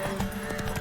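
Under a second of rapid galloping hoofbeats from a horse in The Witcher 3, several quick clops at moderate loudness against background game ambience.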